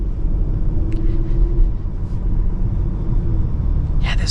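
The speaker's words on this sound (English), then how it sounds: "this turbo V6 is very smooth" A 2026 Porsche Macan GTS with a turbo V6 on the road: a smooth, continuous low engine rumble with a faint steady tone and road noise, heard from the cabin.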